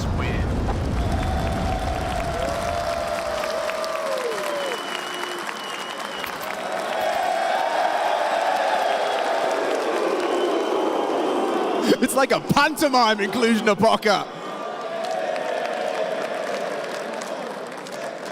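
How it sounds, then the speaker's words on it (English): Crowd applause and cheering fill a large esports arena during a semifinal at a tournament in Cluj-Napoca, a steady loud roar that swells partway through, with a caster talking over it. "a round of applause for that one."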